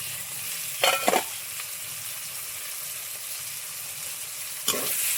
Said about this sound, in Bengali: আমার পেঁয়াজ ভাজা হয়ে গেছে, লঙ্কা কুচি দিয়ে দেবো, টমেটো কুচি দিয়ে দেবো